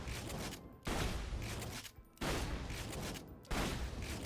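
A bandit shotgun in the video game Borderlands 2 fires in three loud, dense blasts, each followed by a short gap, close up with no talking.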